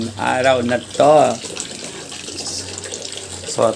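Tap water trickling weakly into a sink during Sunday laundry chores at home, a steady low wash running under and between bursts of nearby talk.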